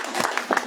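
A church congregation at a Sunday worship service in Mabalacat City, Pampanga, gives a short burst of applause, a moderately loud patter of many hands clapping.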